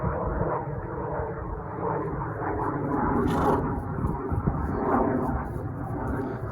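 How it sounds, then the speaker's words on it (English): Aeroplanes flying overhead during a horse schooling session, a steady low droning engine roar that fills the whole stretch at moderate level, with faint clinks above and no talk. "The aeroplanes are noisy today."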